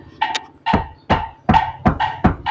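Knocking on a Hyundai Stargazer car ceiling panel after sound-deadening material has been fitted: about six dull, dense thuds at an uneven pace, close and alone.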